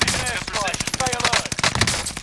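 Rapid automatic gunfire crackles in dense bursts throughout a Call of Duty match, loud and close, with a voice briefly talking over the shots.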